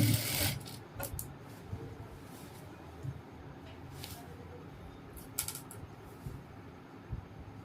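A sewing machine stitches ladies' pants in quiet, intermittent mechanical bursts, with sharp clicks and ratcheting taps spread over a low background hum.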